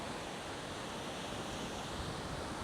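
Ocean waves washing onto a quiet beach in Da Nang, a steady broadband rush of surf with no distinct breaks, continuous and fairly loud, with no voices.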